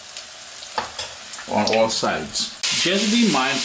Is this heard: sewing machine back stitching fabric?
no